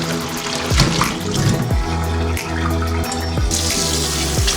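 Running tap water rinses soaked petha (ash gourd) pieces after their limestone-water soak, a steady, close splashing flow with a constant gush throughout.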